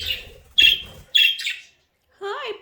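A pet budgie gives several bright, close chirps in short bursts, ending with a rising-falling warble, with quiet pauses between calls.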